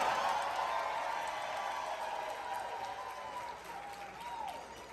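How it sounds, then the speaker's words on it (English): Crowd applause at the Blerdcon 2026 opening ceremony, a broad, sustained round of clapping that holds steady and eases slightly toward the end, with faint voices mixed in. "I'd like to give a big round of applause to all the black people here in the building."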